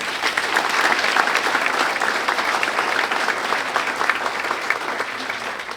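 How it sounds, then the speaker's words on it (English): Graduation audience at a prep school ceremony applauds steadily, a dense, loud wash of many hands clapping at once with no break. "Let's please give them another round of applause."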